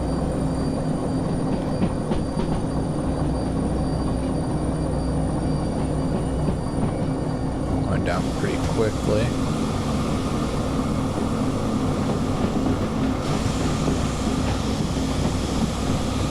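Train in Derail Valley slowing under brakes, a steady broad rumble and rolling noise throughout with a brief squeal partway, while a voice speaks briefly over it.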